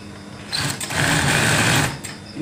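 A sewing machine stitches a silicone-layer baby blanket, starting after a brief pause into a loud, steady close-range whirring run of about a second and a half before slowing to a stop.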